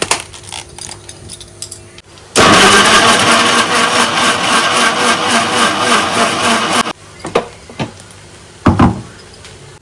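A mixer grinder blends curd, cashews and green chillies into a paste, a loud, dense whirring roar that runs for about four and a half seconds before cutting off into quieter clatter.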